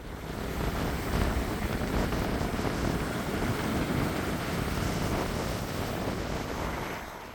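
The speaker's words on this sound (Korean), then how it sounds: "바로 앞이 몽돌 해변이라 파도 소리도 예뻤습니다" Waves wash continuously over a pebble beach on the east coast, a steady broadband rush with wind buffeting the microphone and no pauses or voices.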